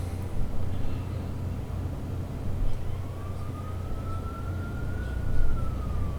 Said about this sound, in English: Got some sirens going on outside